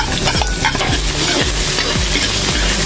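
Garlic and onion sauté in a small amount of cooking oil, crackling and sizzling loudly up close while a utensil scrapes and stirs the pan in a steady, repeated rhythm.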